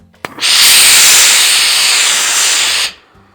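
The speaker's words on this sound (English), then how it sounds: "This is the Rowenta. It's a Perfect Steam, or the Rowenta Perfect Steam." A Rowenta Perfect Steam professional-series iron releases one loud, close, sustained burst of hissing steam for about two and a half seconds, starting after a click and cutting off sharply.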